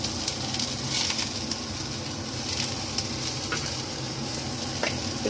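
Tomatoes and cashews fry in a pan, giving a continuous close sizzle with scattered crackles and light stirring scrapes throughout.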